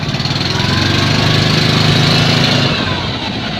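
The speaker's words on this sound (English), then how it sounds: "if I open the throttle, the clutch engages and the pulleys start turning" A small single-cylinder Invacar engine runs up on axle stands with the throttle opened hard, a steady, loud, buzzing mechanical drone with a rapid pulse that holds through the clip and eases slightly near the end.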